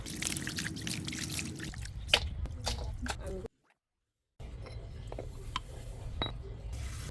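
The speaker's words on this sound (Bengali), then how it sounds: "হাঁসগুলো গরম পানি দিয়ে ধুয়ে নিচ্ছি" Water trickles and splashes as duck meat is rinsed in warm water, with wet squishing and a few light clinks, broken by a brief silent gap midway.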